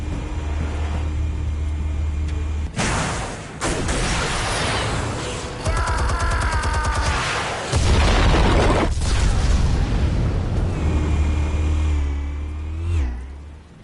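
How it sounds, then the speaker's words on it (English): Explosives detonate in the Batman Telltale game, giving several loud booming bursts and a rumbling low blast, with engine-like roaring between the hits and no speech. "Explosives armed. Fire when ready."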